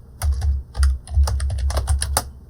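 Rapid bursts of clicking keystrokes on a computer keyboard, close and clear, with irregular pauses between runs of typing and no voices.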